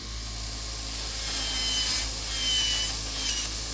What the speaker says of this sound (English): I'm just gonna grind it all down